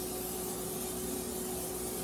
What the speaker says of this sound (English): Make sure we spray it nice and good so the chickens don't stick to it